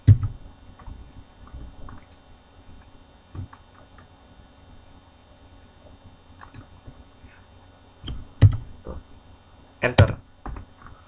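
Computer keyboard typing during work in a Microsoft Excel spreadsheet, scattered clicks and short bursts of key presses with a couple of louder taps, under a steady low background hum and occasional speech.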